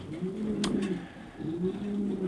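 Pigeons cooing close by, two low rolling coo phrases one after another with nothing else over them.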